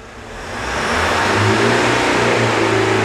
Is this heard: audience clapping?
no